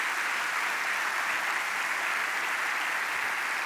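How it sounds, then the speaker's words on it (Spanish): A church audience claps together in a sustained burst of applause at a sermon, a dense, even wash of hand claps heard at moderate distance with no voice over it. "Dale un aplauso a Dios por esa verdad."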